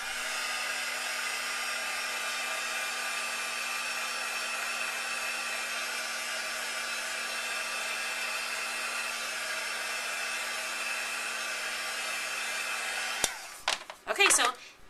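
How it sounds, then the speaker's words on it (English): A heat gun blows steadily at close range while drying glimmer mist on paper, an even whirring hum held for most of the time before it switches off and a few clicks and handling sounds follow. "And then I dry it with my heat gun."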